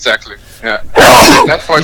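A single loud, sharp sneeze bursts out close up in the middle of a podcast conversation, with people talking just before and after it.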